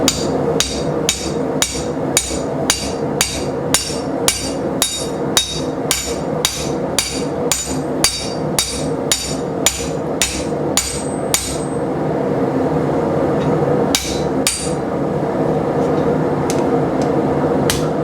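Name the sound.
hammer beating on new Vevor steel anvil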